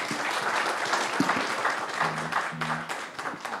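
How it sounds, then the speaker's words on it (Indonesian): Applause from a room of people at a debate in Papua, steady and moderately loud throughout, with faint murmured voices mixed in. "Tepuk tangan"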